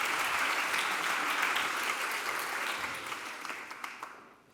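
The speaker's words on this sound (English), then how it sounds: "On l'applaudit." Warm applause from a large audience at the Swiss Who's Who Women Awards 2024 for guest Laurence Rochat, a full steady wash of clapping that thins into a few scattered claps before fading out.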